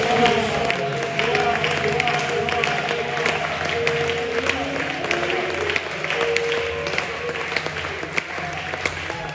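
A church congregation applauds and cheers for Christ, a dense, steady wash of clapping and crowd voices filling the whole stretch, with a voice speaking over it.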